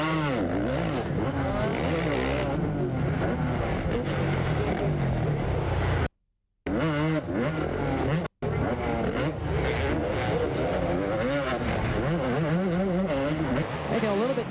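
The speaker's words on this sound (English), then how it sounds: "you want to see that new four-stroke Honda? There it is. You can hear it." New four-stroke Honda motocross bike racing in a 2001 Supercross event, its engine revving loud and continuous alongside other bikes, with commentators talking over the roar and two brief dropouts.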